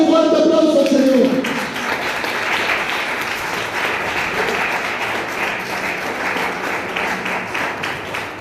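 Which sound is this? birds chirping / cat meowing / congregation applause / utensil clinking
congregation applause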